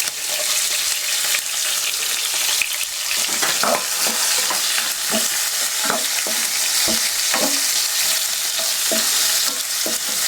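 Onions fry over high flame in a pan, a loud continuous hiss and crackle with intermittent scraping strokes of a spatula stirring throughout.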